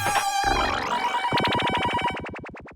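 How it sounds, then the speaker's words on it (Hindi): A synthetic phone ringtone plays a busy, warbling electronic melody, then shifts into rapid repeated chirping pulses, loud and close with no talking. "अभी किसका फोन आया होगा?"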